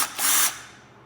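A brief burst of a cordless drill spinning a small wire brush on concrete to remove paint, a short high whirring scrape that quickly winds down to quiet.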